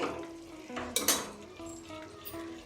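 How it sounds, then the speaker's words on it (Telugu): Yogurt being stirred into chicken in a pan, with a spoon scraping and clinking against the metal under a soft sizzle, including a brighter burst of scraping midway. "పెరుగు కూడా వేసేసి బాగా కలిపేసానండి"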